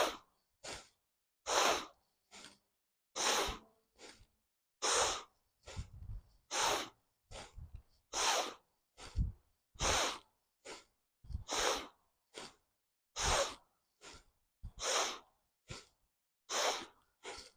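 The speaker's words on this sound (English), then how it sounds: "you can add the bellows breath to this" Bellows breath in pranayama practice: forceful rapid breathing, with a long series of sharp, loud exhales and inhales through the nose, repeated at a fairly even pace with brief pauses between bursts.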